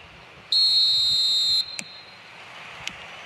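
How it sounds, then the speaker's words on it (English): A referee's whistle sounds at kickoff in the eFootball Mobile soccer video game, one loud, steady, high blast lasting about a second, followed by faint crowd ambience and a couple of short clicks. "There's the whistle, and here we go."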